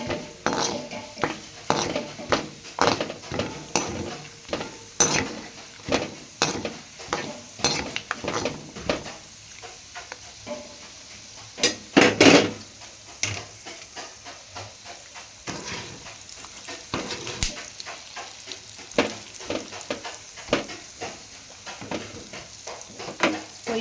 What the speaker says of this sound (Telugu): అదే ఆయిల్లో కొంచెం వేడి చేసి అదే కొంచెం ఫ్రై చేసి తీసేయాలి